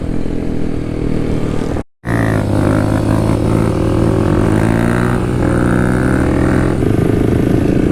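Kawasaki KLX dual sport motorcycle riding on a road, its engine loud and close in a steady drone that rises and falls with throttle after a brief dropout, with heavy wind rush and no talk.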